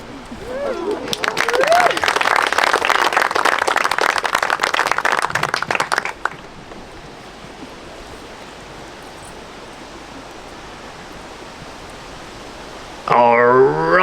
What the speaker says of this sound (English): Round of applause for both of their vows